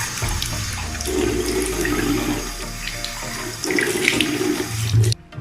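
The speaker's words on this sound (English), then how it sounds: "I wash my face" A bathroom tap runs steadily for face washing, a continuous close splashing hiss of water with slight variations as hands move under the stream, ending abruptly when the flow stops.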